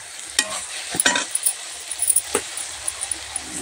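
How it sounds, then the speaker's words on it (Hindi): Vegetables with garlic and chili sizzle in a hot tempering in a home kitchen, a soft steady frying hiss broken by scrapes and clinks of a spoon stirring against the pan. "और अभी हम यहाँ पर लहसुन मिर्चाई डाल करके और यहाँ पर हम सब्जी को भी छनका लगा दिए हैं"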